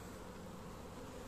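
Honey bees buzzing steadily around a mini plus hive with a feed pouch of fondant, a dense continuous hum close by with no talking.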